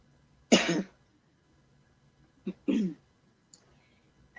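Two bursts of coughing, close and fairly loud, the first a single harsh cough and the second a short double cough, separated by quiet.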